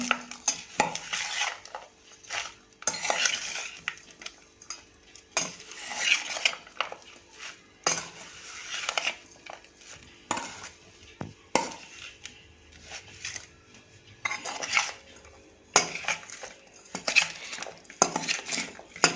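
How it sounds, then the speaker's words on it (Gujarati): A metal spoon stirring and scraping through a green turmeric pickle mixture in a bowl, repeated rasping strokes and clinks in irregular bursts with short pauses, close and alone. "મિત્રો હવે આને આપણે સારી રીતે મિક્સ કરી દઈશું ચમચા વડે."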